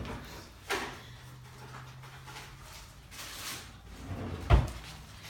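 A drawer slides open with soft scraping and knocks, ending in a sharper thud near the end, close by against faint room noise.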